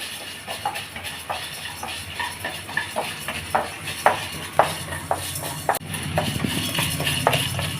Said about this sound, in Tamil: இந்த மல்லியை போட்டுடலாம் அப்புறம் உடனே இந்த மிளகையும் போட்டுடலாம் அப்புறமா ஒரு ரெண்டு நிமிஷம் வறுத்துப்போம்